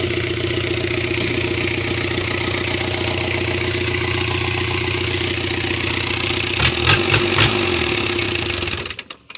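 An Isuzu C240 engine on a piece of machinery idles steadily and loudly up close, with a few brief rev bursts near the end before it cuts off.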